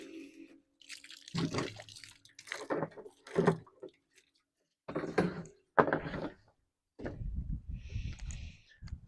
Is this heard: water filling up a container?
yes